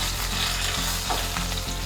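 Eggplant frying in a pan for dahi baingan, turned around to cook on all sides, giving a loud, steady close-up sizzle with soft stirring or turning knocks throughout, no talking.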